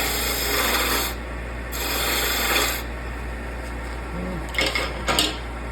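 Spindle gouge on a wood lathe cutting a small bud vase blank, giving steady scraping, rasping passes of several seconds each over a constant low motor hum, with a few short sharp contacts near the end.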